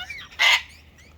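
A bird at a feeding spot gives a single short, harsh squawk up close, with quiet surroundings before and after.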